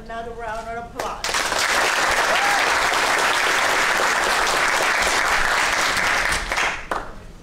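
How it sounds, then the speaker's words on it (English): Sustained, loud applause from a large audience at a military graduation ceremony at Fort Lee, Virginia, starting after a brief moment of speech and continuing steadily for several seconds before tapering off. "Please give them another round of applause."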